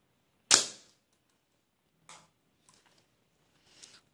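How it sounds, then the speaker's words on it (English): A homemade mini crossbow pistol fires from a distance with one sharp snap, followed by faint ticks and a soft thud of the bolt striking the target after about three seconds. "Now let's shoot it from a distance."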